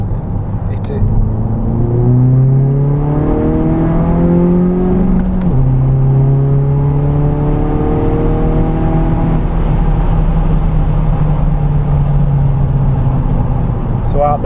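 Tuned Audi A3 BKD quattro diesel, about 358 bhp, accelerating hard in third gear from around 3000 rpm, its engine note climbing steadily, briefly dropping at a shift, then rising again, loud and close throughout.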